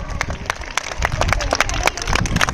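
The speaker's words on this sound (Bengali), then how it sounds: "মেয়েরা হাততালি দাও হাততালি দাও" Schoolgirls clap during a torch run at a girls' high school sports meet, irregular claps spreading across a lively outdoor crowd with voices in the background.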